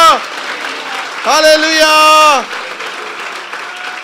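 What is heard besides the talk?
congregation applauding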